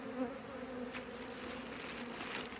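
Faint, steady buzzing of honey bees clustered in a sticky bag during a hive rescue, a soft continuous drone with no talk.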